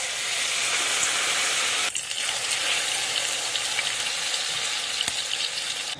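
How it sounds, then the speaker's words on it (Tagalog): Eggplant omelette, tortang talong, fries in a pan with a dense, steady sizzle that dips briefly partway through, close and continuous, with a single sharp click near the end and no talking. "simulan na natin ang pagprito sa ating tortang talong"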